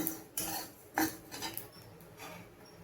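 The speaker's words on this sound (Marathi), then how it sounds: "तीळ चांगले भाजून घ्यायचे खमंग" Sesame seeds roasting in a pan over a low flame, stirred with a utensil: a few soft scrapes and clinks, close and fairly quiet, with faint rustling between the strokes.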